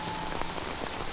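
Steady rain falling and pattering on surfaces, a dense, even hiss with scattered drops, alone and without voices.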